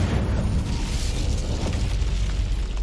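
An Incendio fire spell blast in the video game Hogwarts Legacy gives a loud, dense, continuous roaring whoosh with heavy low rumble that holds steady for a few seconds without a break.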